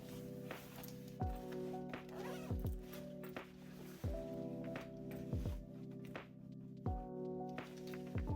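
A small sling bag's zipper is pulled open in several short, quiet rasping runs with brief pauses between them, heard up close with no talking.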